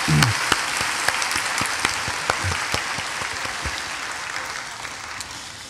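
Sustained applause from a church congregation, steady clapping throughout with a few sharper individual claps near the start, gradually easing off toward the end.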